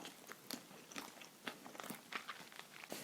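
Fried KFC chicken dipped in tteokbokki sauce being bitten and chewed: a run of quiet, close crunches and crackles in an irregular rhythm, with no talking.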